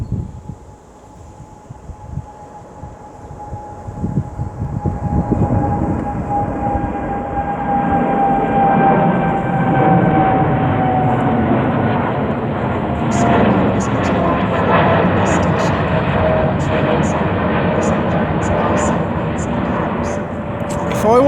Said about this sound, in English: our Qatar Airways flight to Doha is now finally off.